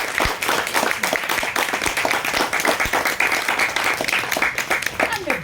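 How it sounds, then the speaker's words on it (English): An audience at a meetup claps in applause, a dense sustained patter of many hands at fairly close range, lasting throughout with voices mixed in. "Let's have a huge round of applause for our person."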